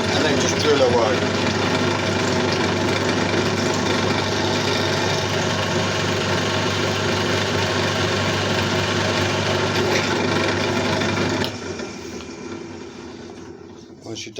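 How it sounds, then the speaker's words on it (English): A bench drill bores into copper pipe with a steady, loud motor hum and a grinding edge that holds for about eleven seconds, then stops and winds down. "And then just drill away."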